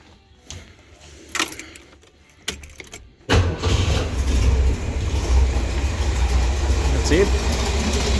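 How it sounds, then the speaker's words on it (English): An old Volkswagen engine is revved on the throttle, a loud sustained roar rising after a few seconds of quiet clicks and handling noises, running steadily to the end with a brief voice at the start. "Just give him a bit of a squirt on the throttle there, and we'll kick him in the guts and see what it does."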